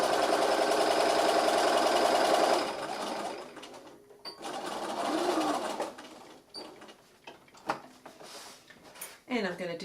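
Sewing machine stitching fabric for a delicates bag, a loud steady rapid whir for about two and a half seconds, then a shorter softer run followed by fabric rustling and handling.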